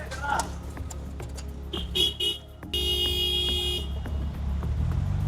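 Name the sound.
car horns beeping in street traffic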